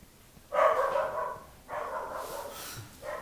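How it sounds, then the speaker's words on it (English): A dog makes three drawn-out, howling barks that fade in and out, moderately loud and a little distant, in a quiet indoor setting. "that's a dog barking"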